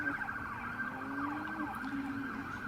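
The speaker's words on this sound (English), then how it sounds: "Sirens, is that the safety car or is that something else locally?" A wailing emergency siren rises and falls steadily at a moderate distance near a Miami race circuit, continuous throughout, with faint traffic noise underneath and no talking.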